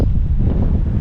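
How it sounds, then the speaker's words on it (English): Strong wind on an open Kansas roadside buffets the microphone with a loud, low rumbling roar throughout. "Ooh, it is windy out here."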